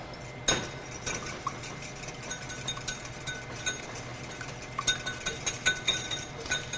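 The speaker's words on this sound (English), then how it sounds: "We're going to crack the egg and whisk it up." A local egg being whisked in a bowl for a polenta casserole, the whisk clinking against the sides in a quick, uneven run of light metallic taps, close by and with no talk.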